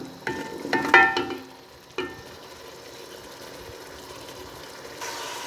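Chicken fries in spices for Shimla mirch gosht, a soft sizzle in a pan broken by a couple of sharp stirring clatters early on, then a faint steady frying hiss at close range.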